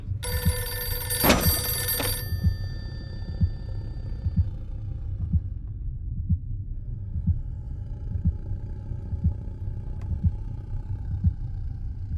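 An old telephone bell rings in one loud metallic burst that fades away, followed by a quiet room where a low steady throbbing beat continues, with no voices.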